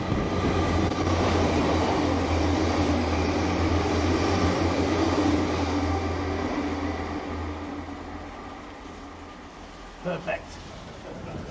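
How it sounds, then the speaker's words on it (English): A train runs through the Standedge rail tunnel, a loud sustained rumble with a low droning hum that slowly fades after about six seconds, followed by a couple of brief knocks near the end. "trains are going to be hurtling through there at probably 70, 80 mile an hour"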